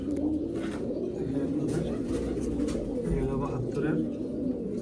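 Pigeons kept in a loft coo in low, rolling murmurs throughout, close by, mixed with a person speaking.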